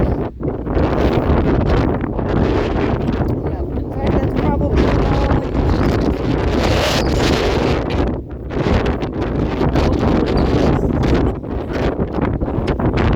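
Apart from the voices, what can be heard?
strong wind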